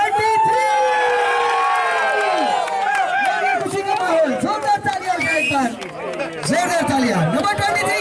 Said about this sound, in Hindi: जोरदार तालियां नंबर 23 के लिए